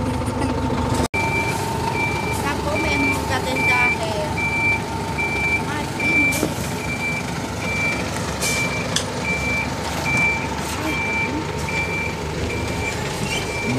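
A delivery truck emits steady, evenly spaced reversing beeps as it leaves after dropping off building material, heard over engine rumble and outdoor noise, with people talking nearby.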